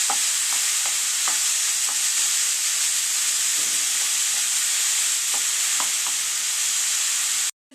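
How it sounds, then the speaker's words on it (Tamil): Chopped vegetables sautéing in a hot pan for red aval upma, a steady close sizzle with repeated stirring scrapes throughout, no voices. "இப்போ நம்ம வந்து வெட்டி வச்ச இந்த வெஜிடபிள்ஸ்லாம் சேர்த்துக்கலாம். இப்போ இதை நல்லா வதக்கிக்கலாம்."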